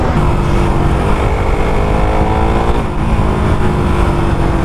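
A Suzuki Raider R150 Fi motorcycle engine runs loud and close during a test drive, with a continuous throaty drone that rises and falls slightly in pitch as it revs.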